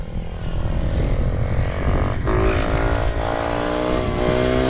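A Yamaha 450cc motorcycle revving hard on the throttle, its engine note climbing and shifting loudly up close.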